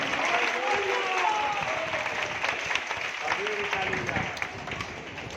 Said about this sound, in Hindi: परमेश्वर के लिए जोर से ताली बजाइए